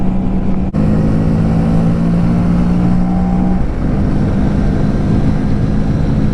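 A mini bike engine held at full throttle, a loud steady droning hum close up with a brief dip near the start and wind rush over it, no voices.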